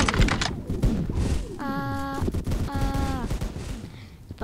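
Rapid bursts of video game gunfire crackle under a player's excited chatter, with two short volleys of shots standing out midway through a busy, noisy battle scene.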